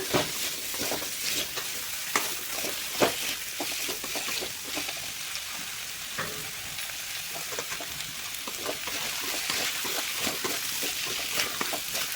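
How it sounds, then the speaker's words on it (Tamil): Potato pieces sauté in hot oil in a pan, a steady loud sizzle with stirring scrapes and occasional clicks running throughout, no talk. "எண்ணெயிலே ஒரு நிமிஷத்துக்கு உருளைக்கிழங்கையும் அதே மாதிரியே வணக்கிக்கோங்க"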